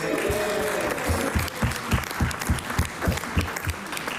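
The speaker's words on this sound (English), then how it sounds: "Don't clap so long." A small crowd in a legislative House of Assembly chamber applauds steadily, with clapping that thins out into scattered individual claps near the end.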